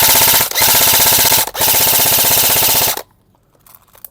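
Airsoft gun firing full auto: a loud, close, rapid stream of shots in three bursts separated by brief gaps, then sudden quiet.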